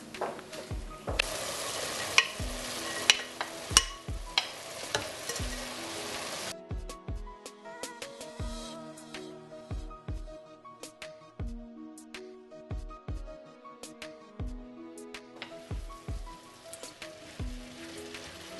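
Carrot and mixed vegetables frying in a pan for lasagne, a dense sizzle giving way to softer crackle, with repeated rhythmic knocks of a spoon stirring against the pan, no talking.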